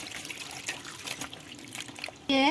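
Water runs and trickles over raw green bananas as they are washed in a sink, a steady splashing wash that swells into a louder, fuller rush of running water near the end.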